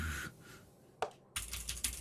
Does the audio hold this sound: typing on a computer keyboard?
yes